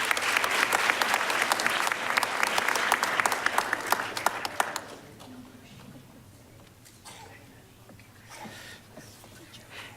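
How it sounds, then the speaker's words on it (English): An audience at a school superintendent's awards ceremony bursts into loud applause for a student, dense clapping that fades after about five seconds into quieter murmurs and a few stray claps. "First up from Miss Soria's class, give a round of applause to Mary Lou Diaz."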